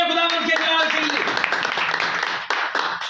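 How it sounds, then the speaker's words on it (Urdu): Loud applause fills a church during a Pentecostal-style sermon, a dense steady wash of many hands clapping throughout, with voices raised over it at the start. "زوردار تالیاں خداوند کے جلال کے لیے"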